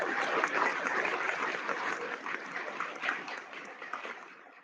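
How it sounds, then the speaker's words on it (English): An audience applauds fifth graders at an elementary school awards and graduation ceremony, producing sustained, dense clapping from a large crowd that holds steady for several seconds. "Give them a round of applause."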